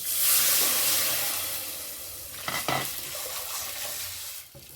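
A steady frying sizzle and hiss as a curd and gram flour mixture is poured into hot tempering, loud at first and easing off, with a brief stirring or pouring disturbance midway.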